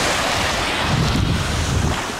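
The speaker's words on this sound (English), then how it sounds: "A little bit of sea breeze in my face. Nice sunshine. Just a gentle surf coming in." Gentle sea surf rolls in on a sunny seashore while a breeze buffets the microphone, a broad steady rushing wash with soft swells, close and without voices.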